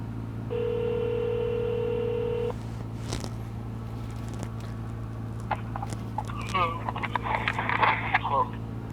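A phone line rings out with a single steady tone lasting about two seconds on a call to a freight broker from a trucking company, followed by clicks and faint background voices.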